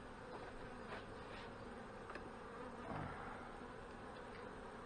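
Honey bees at an opened hive in the bush hum in a steady, continuous drone, with faint individual buzzes passing close now and then, and no voices.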